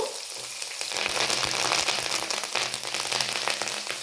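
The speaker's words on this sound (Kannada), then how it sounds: "ಆ ಹಸಿ ಮೆಣಸಿನ್ಕಾಯಿದು ಘಾಟ್ ಸ್ವಲ್ಪ ಹೋಗೋವರೆಗೆ ಇದನ್ನು ಫ್ರೈ ಮಾಡ್ಕೋಬೇಕು." Steady, loud sizzling of green chillies, curry leaves and turmeric frying in hot oil in a pan, a dense crackling hiss throughout with no talking.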